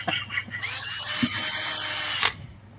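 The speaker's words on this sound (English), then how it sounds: "Don't go too deep with that drill bit." A small power drill running steadily as a drill bit bores into a miniature, a sustained high whir close by that starts after a few light taps and stops abruptly, with no talk over it.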